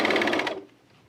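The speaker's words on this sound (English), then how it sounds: "And now I'm going to pull and sew again." A home sewing machine stitches a seam on pajamas or sport shorts in a short, loud, rapid burst of needle strokes that cuts off abruptly, leaving a faint room hush.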